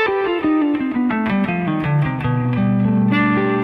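An electric guitar plays a lick in C melodic minor through effects, with a steady string of sustained, overlapping notes that descend and then settle. The tone is loud and close, with no talking.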